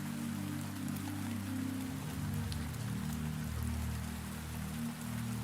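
Steady rain falling on leaves and glass outside a greenhouse at night, a continuous even patter with a low hum underneath, no talking.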